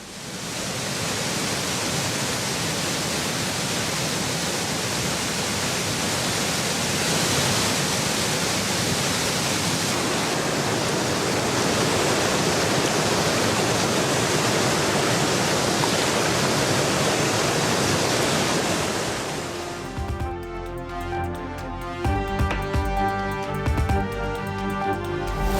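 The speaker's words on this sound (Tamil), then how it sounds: "திருப்பூர் மாவட்டம் திருமூர்த்திமலை பஞ்சலிங்க அருவியில் ஏற்பட்ட வெள்ளப்பெருக்கால் கோவிலை சூழ்ந்த நீர்" Panchalinga falls in the Thirumoorthy hills roars in flood, a loud, unbroken wash of falling water close by for about twenty seconds before giving way abruptly to music.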